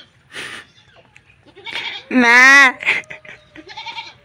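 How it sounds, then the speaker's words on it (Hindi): A goat bleats once, loud and close, a wavering nasal cry in the middle of the clip, while people talk and call out around it before and after. "निकालना बकरी की आवाज"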